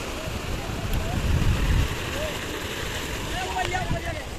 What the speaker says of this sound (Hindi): ये पानी आ पाएगा फिर वापसी गिरेगा